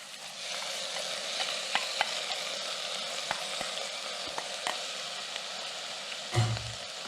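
Rinsed lentils added to sautéing vegetables in a pot give a soft, steady sizzle with occasional stirring taps and a clunk near the end, close and fairly quiet, no voices.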